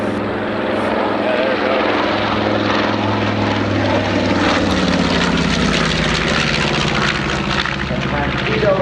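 Antique propeller aircraft at an airshow drone steadily with a loud, continuous engine roar that rises slightly, while a voice speaks over it.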